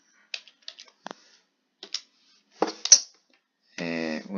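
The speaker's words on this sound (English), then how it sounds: "It's my keyboard." Keys on a computer keyboard click in scattered short taps with pauses between them, quiet and close, followed by a brief tonal sound near the end.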